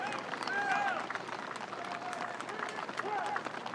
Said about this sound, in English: Getting a well-deserved round of applause here